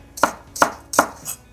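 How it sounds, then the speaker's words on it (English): A knife slicing the green part of a scallion thin on a cutting board, four crisp, evenly spaced chops close by with no talk. "The green part of the onion, you can cut it really thin."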